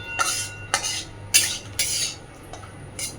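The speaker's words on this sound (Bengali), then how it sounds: "কাঁচা সর্ষের তেলটা দিয়ে সব কিছুকে আবারও একটু ভালোভাবে নাড়াচাড়া করে" A utensil stirs prawn curry in a cooking pot after raw mustard oil is poured in, making several sharp, close metallic clinks and scrapes at irregular intervals, with quiet gaps between.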